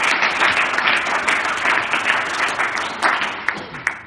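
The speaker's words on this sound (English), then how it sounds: "let's give them a round of applause" Audience at an art show in Berlin applauds, a loud, full round of clapping from a crowd, steady throughout with a few sharper claps near the end and no talking.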